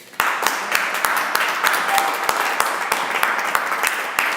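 A crowd applauding steadily in a town hall flag courtyard, dense clapping with a few sharper individual claps standing out, continuous for several seconds.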